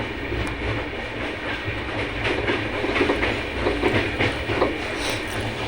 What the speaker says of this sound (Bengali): সকালবেলা ট্রেনটা আর কি হাওড়াতে ঢুকছিল